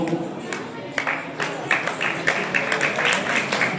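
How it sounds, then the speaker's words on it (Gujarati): Audience clapping for guests at a community award ceremony, a steady patter of many hands continuing throughout at moderate loudness in an indoor hall. "તાળીઓથી વધાવતા રહેજો મહેમાનોને."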